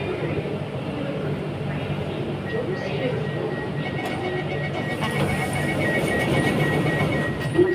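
Constant low rumble of a moving MRT metro train heard from inside, with a thin tonal whine above and faint muffled voices in the background.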